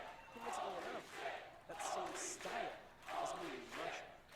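A wrestling crowd waiting for the Miyu Yamashita vs Masha Slamovich match chants and shouts in loud, rhythmic waves, with voices rising and dipping about every second.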